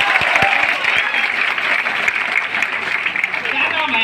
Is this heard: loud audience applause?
yes